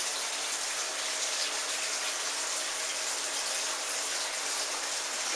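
Water is pumped through 2-inch PVC pipe in an indoor aquaponics system feeding a grow bed and IBC sump, a constant, even hiss of rushing flow that stays level from start to finish.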